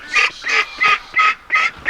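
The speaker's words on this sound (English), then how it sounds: "Some of the ducklings have gotten really big, and we started putting them outside." Young ducklings kept outdoors in a chicken tractor give loud, close, rhythmic honking calls, about six sharp bursts in quick succession with short gaps between them.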